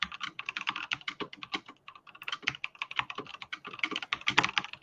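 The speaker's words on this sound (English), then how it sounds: "the typing." Rapid, uneven typing on a computer keyboard, with close, crisp key clicks in bursts and a brief pause near the two-second mark, with no talking.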